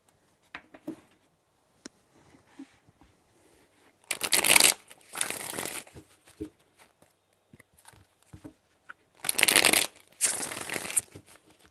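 Tarot cards being shuffled close up, two sets of riffling bursts with sharp flutters of paper, separated by scattered small taps and handling sounds, no voices.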